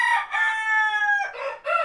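A rooster among a small farm flock of frizzle chickens lets out a single loud, drawn-out crow with a brief break near the end, with no talking.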